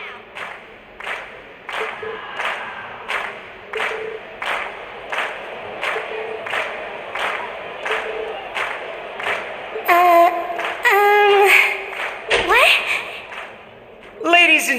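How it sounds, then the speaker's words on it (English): A concert crowd in the video game Trails of Cold Steel claps and cheers in rhythmic bursts, steady repeated applause-like hits with shouts rising toward the end, loud and fairly close. "we've heard your cheers loud and clear"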